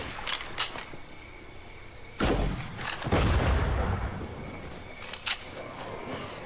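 Gunfire in the zombie survival game State of Decay, a few loud booming shots and blasts with a sustained rumbling burst in the middle, set over quieter game ambience.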